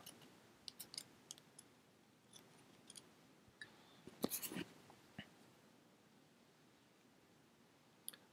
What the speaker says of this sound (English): And I'm gonna cut this excess off.